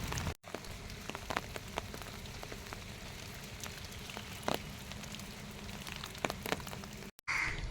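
Steady rain falls in a rural Kannada village setting with flooded paddy fields, a continuous even patter with occasional louder drops, no voices, briefly cut off near the start and end.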